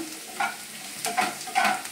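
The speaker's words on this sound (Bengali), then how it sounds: "পেঁয়াজটা মোটামুটি ভাজা হচ্ছে, হালকা ব্রাউন কালার এসে যাচ্ছে।" Onions frying in a pan over a raised gas flame and turning light brown, heard as a steady sizzle with three louder bursts of stirring scrapes spaced about half a second apart.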